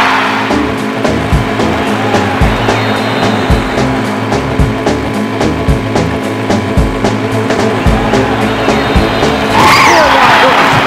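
Cartoon race cars skid around a track in a SpongeBob SquarePants Wii video game, with repeated tire screeches and revving engines over busy game music, loud and close.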